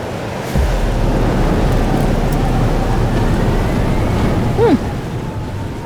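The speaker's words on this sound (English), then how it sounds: "But there wasn't a storm the day Sophie died" Stormy weather in the video game Life is Strange: Double Exposure: a steady, dense rush of wind and rain-like noise that holds evenly throughout, with no distinct thunderclap and no talking.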